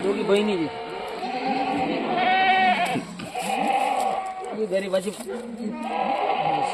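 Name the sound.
Kathiawadi goats bleating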